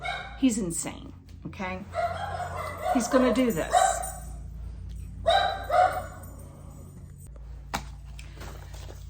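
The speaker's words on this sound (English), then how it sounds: "I apologize for the dog barking." A small dog yaps in several sharp bursts, some rising into yelping whines, close by in a home, while a person talks over and between the barks.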